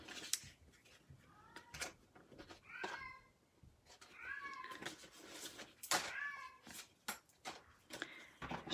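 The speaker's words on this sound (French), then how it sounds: "pauvre chat, hein, l'entendez-vous?" A cat meows repeatedly, several plaintive cries spaced a second or so apart, mixed with clicks and knocks nearby.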